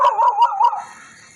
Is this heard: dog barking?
yes